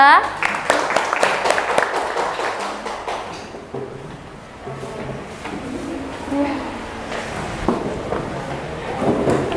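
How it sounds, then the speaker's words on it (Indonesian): A classroom audience claps briefly for a student group that has just presented its discussion results during a teacher performance assessment. The scattered, moderately loud clapping fades after a few seconds as talk takes over. "Tepuk tangan untuk kelompok 2."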